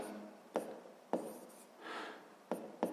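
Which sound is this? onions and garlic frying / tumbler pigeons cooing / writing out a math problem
writing out a math problem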